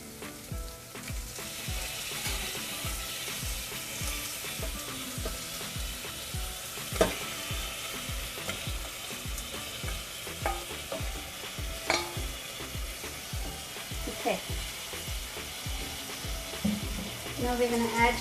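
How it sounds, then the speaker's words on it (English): Mutton pieces fry in a pot over soft cooked onions, a continuous close sizzle under rhythmic scraping and stirring strokes of a spoon, with occasional louder clacks against the pan and no talking. "So I'm going to add meat."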